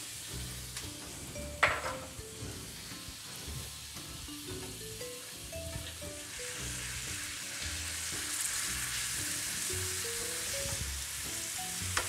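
Half a kilo of ground pork frying in a pan for korokke, a steady sizzle that builds and stays loud as the meat cooks, with a clank of a utensil early on and gentle stirring scrapes, no talking.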